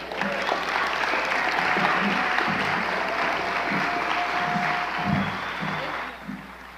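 An audience at an environmental justice awards celebration applauds as the award winner comes to the stage, sustained crowd clapping with scattered cheers and low voices underneath, fading toward the end.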